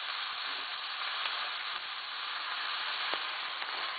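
Chili sauce being mixed in a pan, giving a steady, moderate sizzling hiss throughout with faint scraping and stirring touches and no talking.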